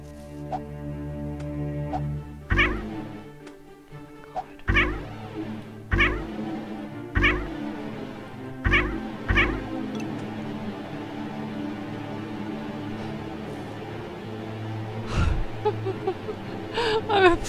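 A cartoon cat in the cute cat platformer game The Purring Quest meows again and again in short, rising cries over steady, continuous game music.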